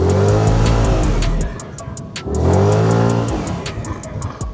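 An FKM MTX 180 motorcycle engine revs hard on a test ride, climbing in pitch twice with a brief drop between, loud and close, with a rapid ticking pulse running through it.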